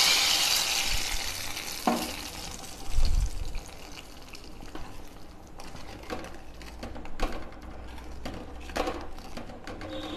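Dried red chillies tempered in hot coconut oil go into a pot of simmering sodhi, giving a soft sizzle and bubbling with a couple of louder splashes and clinks early on, then a quieter, steady simmer.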